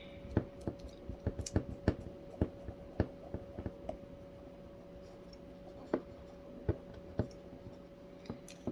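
A vinyl decal being rubbed down onto a surface with a tool gives scattered faint scratchy clicks and taps, quiet and irregular over a low steady hum.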